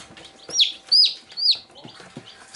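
Day-old chick in a brooder giving three clear, rising high-pitched chirps at a steady pace, close and fairly loud, with faint handling rustle between.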